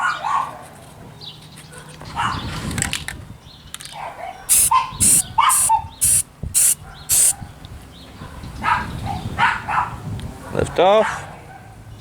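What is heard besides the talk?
dog barking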